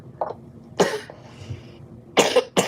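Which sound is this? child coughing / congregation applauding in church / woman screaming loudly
child coughing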